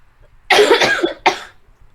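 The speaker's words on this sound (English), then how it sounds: "It's just a lingering cough." Two harsh, close coughs in quick succession, the first longer and raspy, the second shorter, then quiet.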